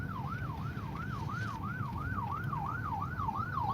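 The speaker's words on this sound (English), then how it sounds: "Ambulance." An ambulance siren passes through Fort Wayne on Thanksgiving, wailing in a fast, even rise-and-fall cycle about three times a second, loud and steady with no voices.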